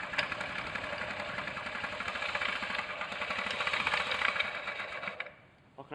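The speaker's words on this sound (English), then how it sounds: "The noise isn't really coming from the front, it seems to be coming from the inside of the engine." A Honda Zoomer (Ruckus) 49.9cc scooter engine idles with a strange internal noise, running as a steady, buzzy, rattling drone at close range before cutting off abruptly near the end.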